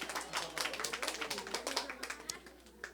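A church congregation claps together after a stretching exercise during a sermon, a run of sharp, fairly close hand claps that fade toward the end, with some voices mixed in.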